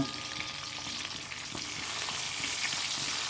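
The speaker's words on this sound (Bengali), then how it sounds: "আর মাছগুলো ভাজা করে নিই" Hilsa fish pieces sizzle steadily in hot oil in a home kitchen, a dense continuous crackle with small spatters, growing slightly louder toward the end.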